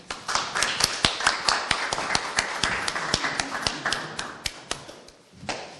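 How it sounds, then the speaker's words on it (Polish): Scattered audience clapping at a photography award ceremony, a modest crowd producing sharp, uneven individual claps that thin out and fade near the end. "brawa się myślę należą"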